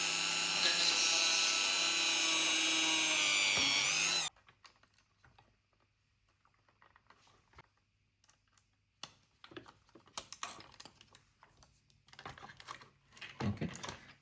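A power tool drives screws while a car bumper is being fitted, a loud, close whirring burst of about four seconds that stops abruptly, followed by faint scattered clicks and handling noises.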